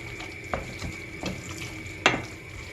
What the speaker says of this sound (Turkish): Önce biraz ben kendim karıştıracağım.